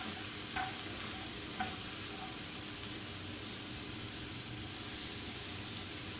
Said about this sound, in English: just saute it for a few minutes until it is slightly soft